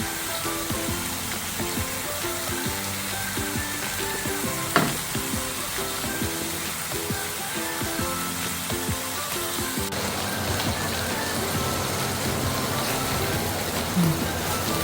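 Chicken pieces grilling on a hot stovetop give a steady, close sizzle and crackle for the whole stretch, with a brief sharper pop partway through and no talking.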